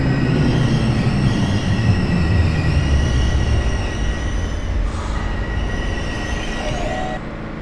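A passenger train in the OpenBVE train simulator rumbles along steadily with rolling wheel noise and a faint high squeal, continuous throughout, with no one talking.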